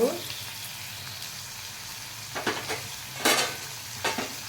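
Tomato and curry leaves being stirred in a sizzling frying pan: a steady low fry hiss runs underneath while a few distinct scraping strokes of a spoon cut through, close and moderately loud.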